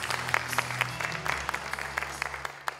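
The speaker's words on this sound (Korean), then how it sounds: "감사의 박수 한번 크게 주십시오" Applause from the audience at a Daegu Dale Carnegie CEO class welcome reception, a steady patter of many hands clapping with sharper individual claps standing out, alongside a low hum in the room.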